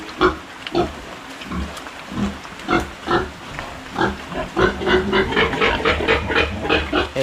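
Pig grunting and squealing close by in a series of short, uneven bursts that grow busier and louder toward the end, with no talk.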